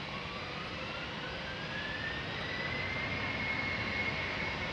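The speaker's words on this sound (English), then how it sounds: "Keeping my eye out for all airplanes while the camera stays focused on the Embraer, and it is spooling up." A KLM Embraer E295 jet at Amsterdam Schiphol spools up for takeoff, a steady broadband roar with a slowly rising whine, continuous and moderately distant throughout.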